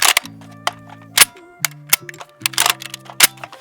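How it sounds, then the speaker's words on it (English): The lower and magazine of a CZ Bren 2s rifle are put back together. Crisp metallic clicks and clanks come in quick, uneven bursts at close range. "Then your lower, your mag, and you are now"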